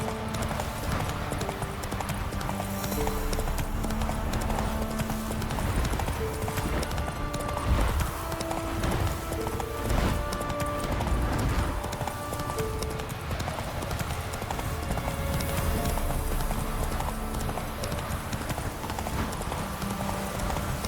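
Hooves of Roach, the horse in Witcher 3, clip-clop in a steady trotting rhythm throughout, close and clear, with game music and ambience underneath and an occasional snort.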